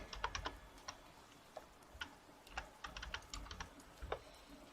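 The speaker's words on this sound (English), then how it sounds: "I'm typing it all wrong." Keys clatter on a computer keyboard in uneven bursts of quick taps with short pauses, close and fairly quiet, no voices.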